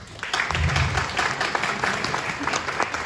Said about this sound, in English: please give me and give her a round of applause